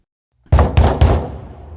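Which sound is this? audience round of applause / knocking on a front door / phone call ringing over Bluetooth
knocking on a front door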